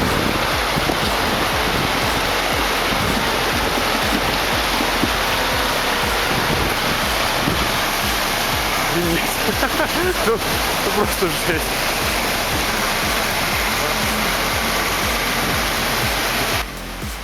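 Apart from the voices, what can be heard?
fast-flowing river crossed by logging truck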